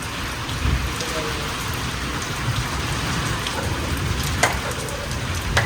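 Heavy rain pours down outdoors during a storm, a dense, loud, steady patter on surfaces that continues throughout with no pause.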